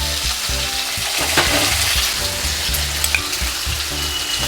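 Bay leaves, green chilies, tomato, capsicum, ginger and spices sizzle and fry in a pan for chhanar dalna, a steady close crackle stirred throughout, with no voices.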